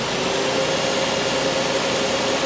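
A Chrysler Pacifica rolls slowly in gear at about 7 mph with its engine running, a steady, moderately loud hum and rumble of engine and road noise throughout.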